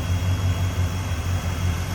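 A 1986 Oldsmobile Cutlass 442 engine idles smoothly and steadily up close, with a low, even rumble and no voices over it.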